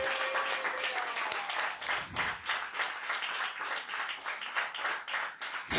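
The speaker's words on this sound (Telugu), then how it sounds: "గట్టిగా చప్పట్లు కొట్టి" A church congregation at a Christian healing service claps loudly and steadily, a dense, continuous wash of applause that fills the whole stretch and swells briefly at the end.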